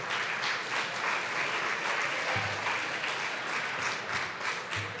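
An audience at a live entrepreneurship event applauds award nominees, with dense, sustained clapping from a roomful of people that continues steadily throughout.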